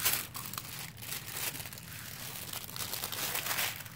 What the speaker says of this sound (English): excuse the crinkles